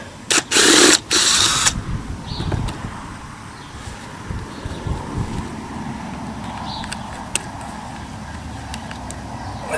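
A cordless drill running in reverse to back out a screw from a pallet whirs close by in two short loud bursts, then stops, leaving a low background rumble.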